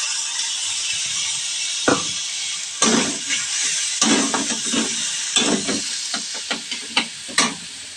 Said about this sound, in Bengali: আর একটু হলুদ গুঁড়ো সামান্য এটাও ভেজে নেবো